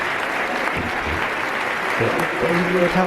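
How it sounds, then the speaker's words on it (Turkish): Loud, sustained applause from a stadium crowd at Camp Nou in a football video game, saluting Busquets at Barcelona, with a commentator-style voice speaking over it. "Busquets'in Barcelona'daki, daha doğrusu Camp Nou'daki sondan bir önceki maçı olduğu için ekstra bir alkışlandı"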